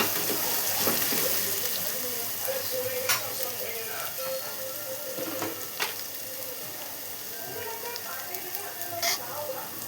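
Spices and vegetables for kadhi vada sautéing in a pan: a steady, close sizzle with occasional scraping stirs, no voices.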